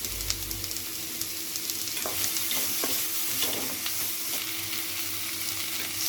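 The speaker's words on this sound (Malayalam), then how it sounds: "അത് അരിഞ്ഞത് നമുക്കിതിലേക്ക് ഇട്ട് കൊടുക്കാം. ഇച്ചിരി ഉപ്പിട്ട് കൊടുത്ത് നമുക്ക് ഇത് വഴറ്റിയെടുക്കാം." Chopped onions sautéing with a pinch of salt in a pan, a steady close sizzle under repeated scraping strokes of a spoon, continuous and fairly loud, with no voices.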